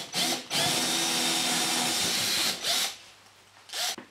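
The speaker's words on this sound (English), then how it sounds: "And then I'm going to drill below it." A power drill bores fixing holes into plasterboard, whining loudly in a long sustained run, followed by two shorter bursts with quieter gaps between them.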